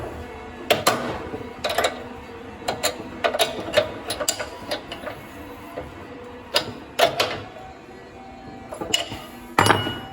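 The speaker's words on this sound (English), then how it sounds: "next thing to do is just to nip this nut up here" A nut being nipped tight on the top roller of a Pallmann Cobra 09 floor machine under repair: a string of close, sharp metallic clicks and ratcheting clinks, irregular, with short pauses between bursts of tool work.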